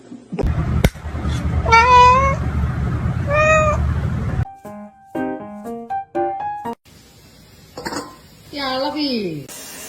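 A pet cat meows repeatedly indoors, clear rising and falling calls spread through the clip, with a person talking over the first part and some kitchen-like clatter between the meows.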